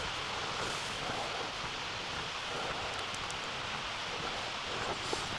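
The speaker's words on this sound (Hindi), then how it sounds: "इस टाइम हल्की हल्की बारिश भी हो रही है।" Light rain falls at night in Eidfjord, Norway, as a soft, unbroken patter and hiss, fairly quiet and steady, with no speech.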